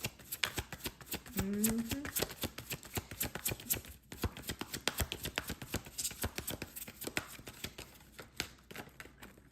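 Rapid, crisp riffling of tarot cards being shuffled again and again, close and steady, with rhythmic flicks and brief pauses.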